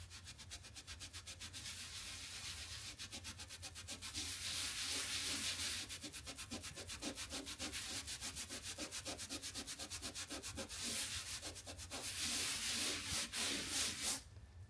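Rapid back-and-forth scrubbing with a rag and The Pink Stuff abrasive cleaner on a painted wall scuff mark, a close, steady, rhythmic rasping that keeps going and grows more vigorous in bursts.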